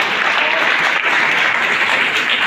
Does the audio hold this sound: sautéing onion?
no